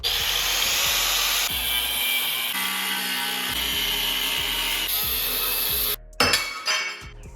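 A bent trailer ramp piece is cut away with a power cutting tool, making a loud, continuous harsh hiss and whine that shifts slightly as the cut moves around. It stops abruptly near the end, followed by a few clanks and rattles.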